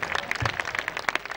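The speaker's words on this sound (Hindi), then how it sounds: "अपनी तालियों में कंजूसी ना रखना भाई, जितनी ताली बजाएंगे उतना अधिक अच्छा लगेगा भोजन में।" An audience at a volunteer award ceremony applauds in a brief, lively burst of close, rapid clapping from many hands, with no talk over it.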